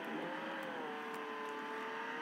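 A car driving in the Roblox game Jailbreak, its engine a steady sustained drone with a slowly falling pitch, moderately loud and continuous, with no talking.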